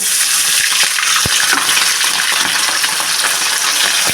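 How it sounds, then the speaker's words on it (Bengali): Khoira fish, coated in salt and turmeric, crackle and sizzle loudly in hot oil in a wok, a dense continuous frying hiss with scattered sharper pops and spatters, close up and alone without any voices. "এখন আমি মাছগুলোকে দিয়ে ভেজে নেব"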